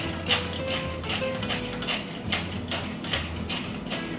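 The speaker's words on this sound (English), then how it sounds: "About 15 to 20 cranks if you have a pepper mill" A crank pepper mill grinds black pepper up close with a rapid, repeating ratcheting crunch that keeps an even rhythm of turns.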